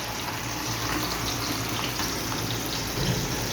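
Kebab meat sizzling in hot oil, a steady dense hiss and crackle that stays fairly even throughout with no voices.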